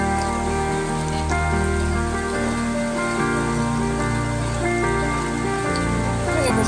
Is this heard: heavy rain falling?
yes